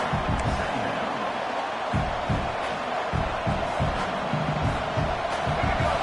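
Dense, steady stadium crowd noise from the college football video game NCAA 26 roars throughout, a constant wash of cheering with faint thuds underneath.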